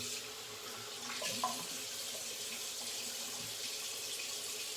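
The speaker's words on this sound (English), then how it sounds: "I'm gonna rinse for 20 seconds." Tap water running steadily into a sink while shaving lather is rinsed off a straight razor, a soft even splashing stream with a brief louder splash, close by and alone.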